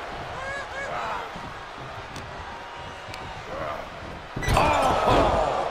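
Wrestlers slam an opponent face-first in a WWE 2K23 one-on-one match, a loud burst of impact and crowd noise near the end over a steady arena roar, with commentary voices.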